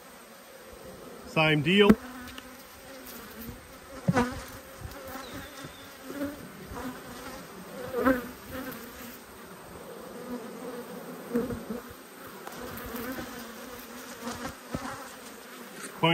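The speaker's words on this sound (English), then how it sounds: "These guys are a bit calmer than the bees next door." Honeybees drone steadily around an open hive during a frame inspection, with a few louder buzzes as bees pass close, and a brief spoken remark early on.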